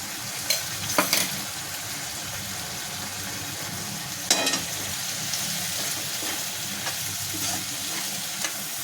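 Green chillies fry in a pan with a steady, close hiss, broken by a few sharp stirring scrapes and clacks early on and again near the middle.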